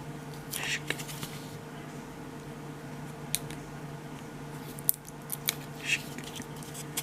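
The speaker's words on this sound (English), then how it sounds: "I need to slice this open a bit." Scissors or a blade slice open a mail envelope with a few quiet, brief cutting snips and rustles over a steady low hum, close and soft.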